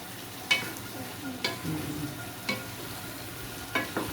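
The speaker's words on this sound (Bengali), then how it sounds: "এই জন্য আমি লাউ কষাচ্ছি" Bottle gourd sautés in a pan, giving a low, steady sizzle. Sharp scrapes and clinks of a stirring utensil cut through it about four times.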